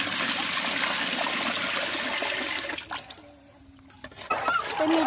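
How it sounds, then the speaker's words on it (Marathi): Water pours steadily into a pan of fried dal, a loud continuous gushing that eases off briefly, then returns with some clattering and splashing nearby. "सगळी डाळ डाळ फ्राय झाली आता त्यात पाणी टाकणार आहे"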